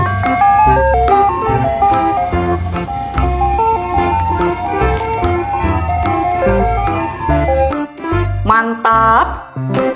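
A toy ice cream truck plays its jingle loudly and continuously, a bright repeating tune in steady rhythm that carries on with no talk over it.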